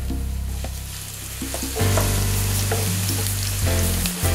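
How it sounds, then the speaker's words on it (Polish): Chopped garlic hits hot oil in a pan with a loud, steady sizzle that jumps up partway through and keeps crackling, with a few clinks of a utensil stirring. "Na patelni rozgrzewamy olej, dodajemy posiekany czosnek"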